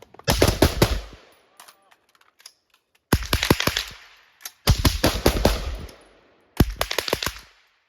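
Rifle fire on an outdoor shooting range, old ammunition in use: several rapid bursts of sharp, loud shots separated by short pauses, with scattered single cracks between them.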